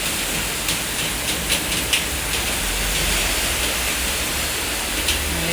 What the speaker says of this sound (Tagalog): It's raining. See? Too much raining outside.